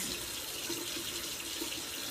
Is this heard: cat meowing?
no